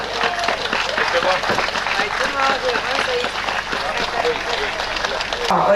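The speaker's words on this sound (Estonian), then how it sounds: "Suur aplaus Koitmäe Ahtile." Estonian outdoor folk festival crowd at Seto Kingdom day applauding loudly and steadily, a dense wash of clapping that holds for several seconds with crowd murmur mixed in.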